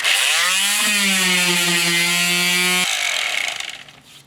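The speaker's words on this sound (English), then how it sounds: "I'm going to go ahead and sand this. You want to get it as smooth and flat as possible." A power sander smooths a wood slice for a craft project, its motor giving a steady, loud whine with strong harmonics that cuts off near the end and trails away.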